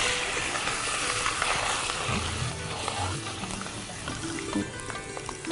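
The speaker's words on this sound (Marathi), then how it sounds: "शेंगदाणे चांगले तळून घ्यायचे." Peanuts frying in hot oil with carom seeds and cumin, a steady loud sizzle and hiss with occasional stirring clinks and scrapes, close up throughout.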